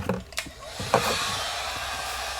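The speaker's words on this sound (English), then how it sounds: "Let's plug in the heat gun." An old school heat gun blows with a steady, fairly quiet whooshing hum after a couple of faint clicks at switch-on.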